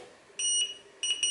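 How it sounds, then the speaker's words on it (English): A socket tester beeping when held against a wall socket, two loud, close, high-pitched electronic beeps, the first about a quarter second long, the second a shorter stuttering burst. "It should only beep on the live, the ground and the neutral."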